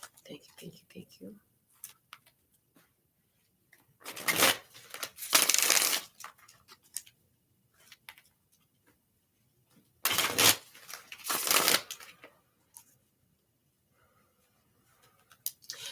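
Tarot cards are shuffled in two distinct riffling bursts, each lasting a second or two, with quieter handling and light rustles between them in a hushed room.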